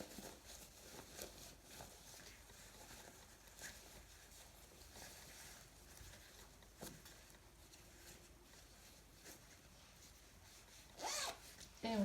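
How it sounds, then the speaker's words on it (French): A zipped patch pocket of a small fabric bag being turned right side out, heard as soft fabric rubbing and rustling with a brief zipper rasp near the end, quiet and close. "La poche plaquée zippée est cousue, on va pouvoir la retourner."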